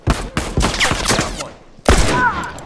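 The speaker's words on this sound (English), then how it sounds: "Shotgun!" Shotgun blasts in The Last of Us multiplayer Factions mode: several loud, close booming shots in quick succession, then a pause and another heavy blast.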